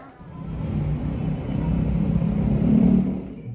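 A small Alkon petrol-engine water pump runs steadily with a low droning rumble that swells slightly, close by and without voices.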